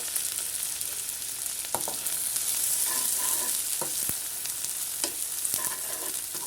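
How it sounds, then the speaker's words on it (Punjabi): Bitter gourd peels fry in hot oil with a continuous bright sizzle, broken by several sharp clacks and scrapes of stirring against the pan. "ਹੁਣ ਆਪਾਂ ਜਿਹੜੇ ਆ ਨਾ ਕਰੇਲਿਆਂ ਦੇ ਛਿਲਕੇ ਸਭ ਤੋਂ ਪਹਿਲਾਂ ਇਹਨੂੰ ਫਰਾਈ ਕਰਾਂਗੇ"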